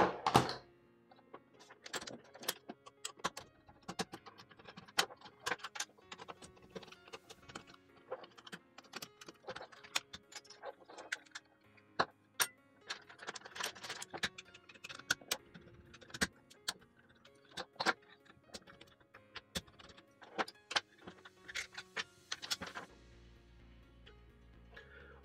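Sonoff smart switches being pried apart and disassembled, sped up, giving a dense, fast run of small plastic clicks, snaps and scrapes, close and fairly quiet, continuing without pause until it stops just before the end.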